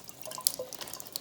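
Water from a kitchen sink tap trickles into a small measuring cup, heard as a brief soft stream with a few light drips and splashes, fairly close and alone.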